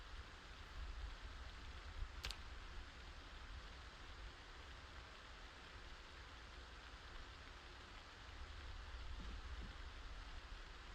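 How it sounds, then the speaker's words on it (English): Constant rain in the Project Zomboid video game, a low, even hiss of rainfall running throughout, with one brief sharp click near the start and soft thumps near the end, no talk. "listen to the rain ASMR that comes from my game at all times because it rains every day"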